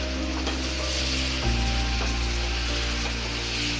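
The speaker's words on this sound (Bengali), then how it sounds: "এবার ভালো করে এটাকে কষতে দিতে হবে যাতে আদা রসুনের গন্ধটা চলে যায়" Ginger garlic paste and chicken pieces fry in a pan, a steady, close sizzle that runs throughout with a low hum beneath and a few soft knocks of stirring.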